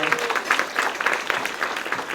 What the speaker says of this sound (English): Let's give everybody an applause for supporting that